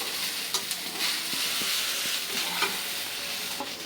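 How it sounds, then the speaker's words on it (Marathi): Coconut roasting in a pan sizzles continuously, while a spoon stirring it adds soft scrapes and taps, close and steady with no talking. "खोबरा भाजून घेते मी. थोडा खरपूस होता, अजून थोडा ब्राऊन जाऊया."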